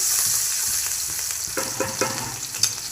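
Cumin seeds, asafoetida and chopped green chilli fry in hot oil for a bottle gourd kofta curry, a close, loud, continuous sizzle broken by a few sharp knocks and scrapes of stirring.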